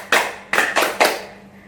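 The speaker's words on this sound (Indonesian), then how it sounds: "Tepuk sukacita." Children clap out a rhythmic joy clap in a children's faith class, four sharp hand claps in a short pattern: one, a pause, then three quick ones, close and clear with no talking.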